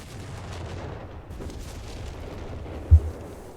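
An artillery barrage in a video game rumbles low and distant beneath a faint background wash, ending in one deeper thud near the end.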